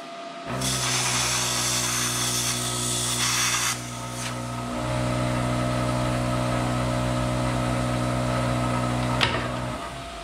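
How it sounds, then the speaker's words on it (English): A plasma cutter hisses steadily while cutting around a washer on a rusty truck body mount, a loud continuous hiss over a humming drone, pausing briefly near the middle before resuming. "Just get our plasma cutter, cut around that washer, enough room for the body to pull up off."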